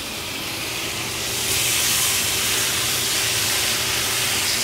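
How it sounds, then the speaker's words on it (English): Short ribs searing and caramelizing in a hot pan while steam escapes, giving a steady broad hiss that swells slightly after the first second and holds throughout, with no talking. "you can see how much steam escapes as this is caramelizing"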